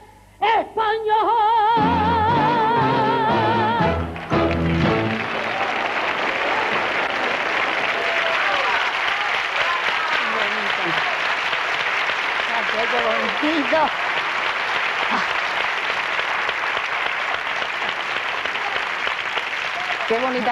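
Applause from a television studio audience at a 1998 Spanish copla show follows the last notes of a pasodoble, swelling into long, steady clapping that continues loud and unbroken with faint voices mixed in.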